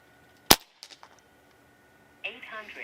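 A single sharp crack from a Crosman Prospect .22 regulated PCP air rifle, fired at a target, followed by a few faint clicks and a short metallic ringing a moment later.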